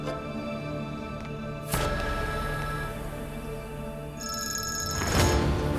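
A telephone rings with a bright, electronic trill, repeating in bursts over a steady background hum.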